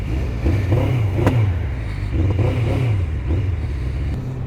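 A Suzuki GSX750F motorcycle engine idles again after being switched to its fuel reserve, a close, steady low rumble with gentle rhythmic rises in revs and a few faint clatters, no talk over it.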